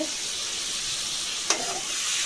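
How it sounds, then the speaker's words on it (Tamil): Steady close sizzle of tomatoes frying with salt in a pan, with one brief scrape of stirring midway. "நல்லா கிளறிட்டு லைட்டாக லோ ஃப்ளேமில் வச்சுட்டு க்ளோஸ் பண்ணிடுங்க."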